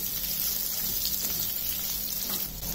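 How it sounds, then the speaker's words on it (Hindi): Potatoes with cumin seeds frying in a pan as they are mixed, a continuous even sizzle close by with faint stirring, no talk. "इसमें सीधा जीरा आलू में आलू डाल देना है हमको, अच्छे से मिक्स करना है।"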